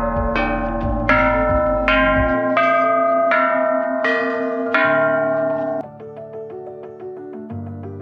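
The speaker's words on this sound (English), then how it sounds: "Ring the bells!" Bells rung in a steady series of about seven clanging strikes at the summit of Khao Nor mountain in Nakhon Sawan, Thailand, each ringing tone overlapping the last, loud and close with no talk.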